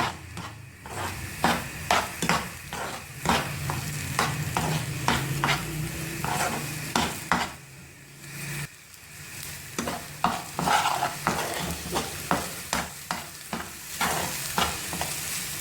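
Eggs with turmeric are stirred over high heat in a pan, a steady sizzle broken by repeated scraping strokes of a spatula, close and moderately loud, with a short pause before the stirring resumes.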